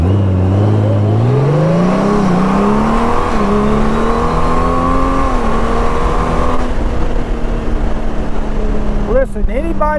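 A 2023 Honda Goldwing Tour DCT touring motorcycle accelerates hard through rising engine pitch with a gear shift, loud and close, then the roar settles near the end as a voice briefly starts to speak.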